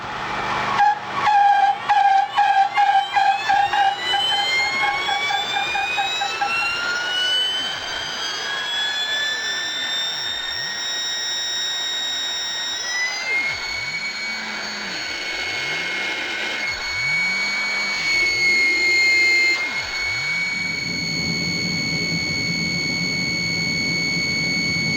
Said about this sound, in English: Here is a close-up of the side channel blower.